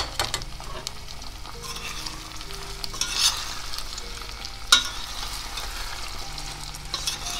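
Broad beans fry in sauce in a pan and are stirred steadily, giving a soft continuous sizzle broken by scraping strokes and a couple of sharper clinks of the utensil.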